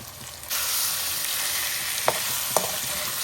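Chicken frying with spices in a pan during a khebsa-style rice dish preparation, a loud steady broadband sizzle that rises at once and holds, with two brief scraping stir strokes and no talking.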